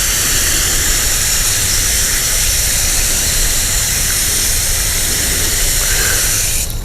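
Steady water spray onto garden tomato plants in dry soil, a continuous loud broadband hiss running the whole time with no pauses, ending abruptly near the close.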